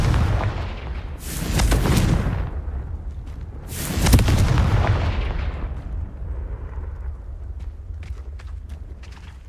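Confringo explosive spell blasts in Hogwarts Legacy: two booming bursts a few seconds apart, each with a sharp crackling attack over a heavy rumbling low end, then a long fading roar.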